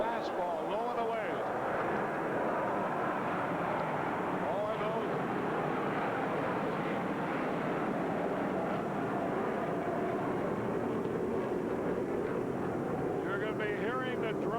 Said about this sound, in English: You're going to be hearing the drone of those airplane motors all day long.